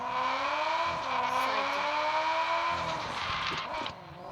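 A drift car's engine revs in a steady, loud drone, its pitch climbing and wavering before easing off near the end, with no voices over it.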